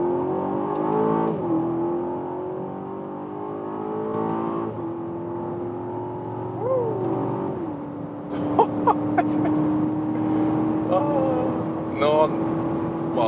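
An Aston Martin DBX performance SUV pulls through its gears, the engine note climbing steadily and then dropping at each shift, loud and steady from inside the cabin, with a few short clicks near the end.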